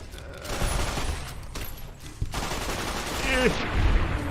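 Gunfire in Fallout: New Vegas, a few separate shots and short bursts over a steady game background, moderately loud, with no speech.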